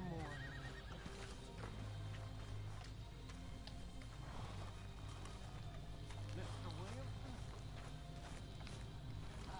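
A horse whinnies and hooves clip-clop amid a busy, dense mix of sounds in the video game Red Dead Redemption 2, with voices in the background.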